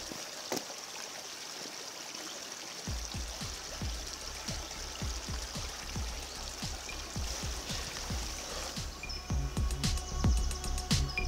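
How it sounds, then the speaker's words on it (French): Small stream trickling and babbling through protected woodland and meadow near Gestel in Morbihan, with a steady close water flow and scattered bird calls above it. "on a traversé le petit ruisseau là"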